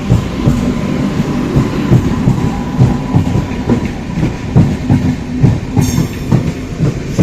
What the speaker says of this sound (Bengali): এই লাইনটাতে ট্রেন আসছে প্রথম দেখছি।